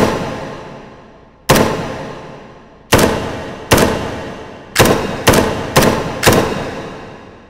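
Gunshots in the VR sandbox shooter Hot Dogs, Horseshoes & Hand Grenades: seven loud, sharp reports with long decaying tails, spaced irregularly, the last several fired in quicker succession, with no talk over them.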